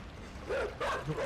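A dog barks twice in quick succession in the video game Inside, over a steady background din, moderately loud and slightly muffled.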